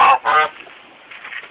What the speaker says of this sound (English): My poor Goose. My Goose should be able to go with me.